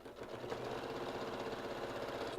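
A sewing machine stitches fabric while making dolls, giving a steady, close, continuous mechanical whir with a fine rapid rhythm and no break, and no voices over it.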